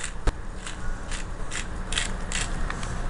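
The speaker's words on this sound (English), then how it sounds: "I'm going to grind about a good teaspoon and a half or so onto it." A hand grinder cranks out garlic sea salt in a quick series of clicking, ratcheting twists, heard close and crisp over a low steady background, with no speech.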